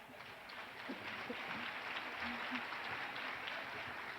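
Applause from an audience at a nursing hooding ceremony, a steady continuous patter of many hands clapping throughout, moderately loud and fairly even.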